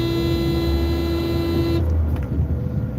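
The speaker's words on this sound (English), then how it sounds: "You gotta honk at these people" A car horn blares as one sustained loud honk of nearly two seconds over city traffic noise, then cuts off, leaving the rumble of the car and the street.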